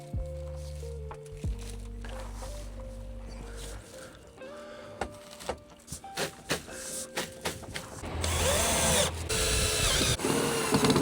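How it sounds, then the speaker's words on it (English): Power drill driving into a wooden campervan floor, whirring in bursts with ratcheting clicks and knocks, growing louder and more continuous toward the end, heard up close. "I'm happy enough to drill into the wood now"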